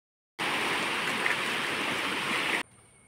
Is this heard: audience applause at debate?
no